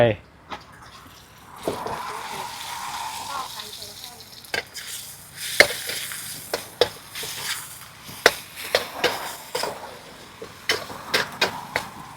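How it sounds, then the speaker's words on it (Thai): Minced pork hits a hot pan with fried garlic and sizzles steadily, while a spatula scrapes and taps against the pan in irregular clacks. The sounds are close, and someone talks over the cooking at times. "ต่อไปใส่หมูลงไป"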